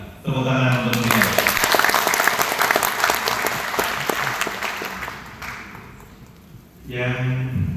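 Audience applause for an honoree at an Indonesian education event in Malang, a dense burst of clapping that rises quickly, holds steady, then thins, with a speaker's voice on the public address before and after it.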